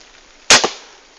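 A crossbow fired outdoors in the rain gives one sharp, loud snap followed by a quick second thud as the bolt strikes, standing out clearly over a faint hiss of rainfall.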